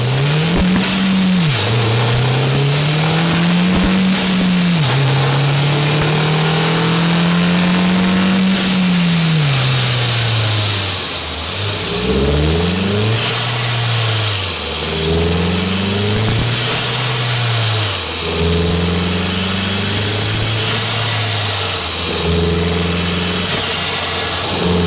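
A MK1 Audi TT 225 engine fitted with an induction kit revs loudly and repeatedly up close, its pitch climbing and falling with throaty intake roar between bursts.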